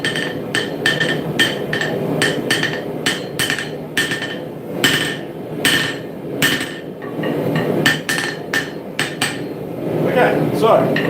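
A hammer strikes hot steel while a dagger is forged, ringing out in sharp metallic blows at an irregular, quick pace with short pauses between bursts.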